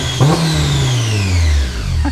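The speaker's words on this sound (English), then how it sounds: "Now listen, you have equal supercharger and exhaust." A Kraftwerks-supercharged Honda S2000 CR revs hard, its exhaust note and supercharger whine rising, then pitching steadily downward as the revs fall. The sound is loud, close and continuous, with no talking.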